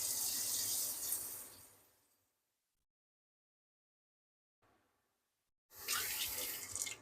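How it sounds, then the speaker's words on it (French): Water runs from a tap into a pot of snow crab for a homemade bisque. A steady, full rush lasts about two seconds, then fades to silence, with a brief trickle before the flow starts again. "je vais venir ajouter de l'eau jusqu'à environ la surface du crabe"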